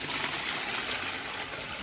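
Water pours out of a tub holding baby fish as it is tipped over, a steady, even rush of trickling and splashing that runs for the whole moment at moderate level with no voices.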